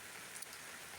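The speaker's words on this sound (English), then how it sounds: "Ugh, with the rain." Steady rain falling outdoors, a faint, even wash of continuous patter with no distinct drops or other sounds standing out.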